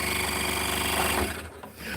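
A scroll saw cuts wood with a steady, rapid buzzing rasp from the blade's fast up-and-down stroke, close and continuous, then easing off near the end.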